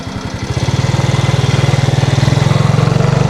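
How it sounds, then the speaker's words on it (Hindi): A Burmese-made motorbike with a single disc brake runs near an Indo-Myanmar border village, its engine putting out a steady, loud, fast-pulsing putter with no talk over it. "यहाँ पे सिंगल डिस्क वाला बाइक है बर्मा का।"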